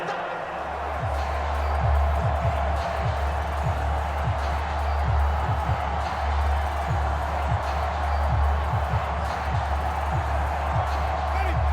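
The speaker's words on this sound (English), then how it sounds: "This crowd turning up the decibel level." Steady stadium crowd roar from a Madden NFL 25 Browns versus Ravens game, a loud continuous wash of noise swelling on third and long, with low rhythmic thumps beneath and a commentator's voice over it.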